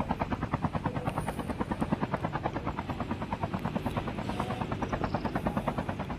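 An aircraft in the Call of Duty Mobile game thrums loudly with a fast, steady rotor-like pulsing, continuous and close throughout, with no speech over it.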